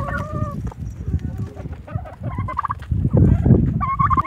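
Turkeys let out of their pen gobble loudly and repeatedly nearby, with rapid warbling bursts mixed with clucking chickens and scuffling on a farm.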